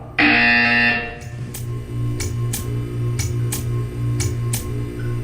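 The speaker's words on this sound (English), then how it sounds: "When you hear the buzzer, stare at the art" A brief loud tone opens, then a synthetic buzzer in the Portal 2 video game sounds in short repeated pulses, fairly even in rhythm, over a low steady hum.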